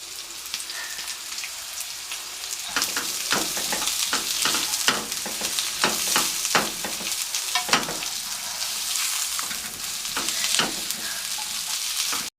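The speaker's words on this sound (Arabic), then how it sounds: "عندي بصله مقطعاها جوليان هنزل بيها اشوحها" Julienned onion sautéed in olive oil in a pan, where chicken had just been cooked, gives a steady close-up sizzle and crackle with frequent sharp pops and spatters throughout, with no voices.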